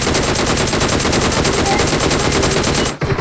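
Sustained automatic gunfire in PUBG Mobile, a loud, rapid, continuous burst of shots filling about three seconds before cutting off abruptly.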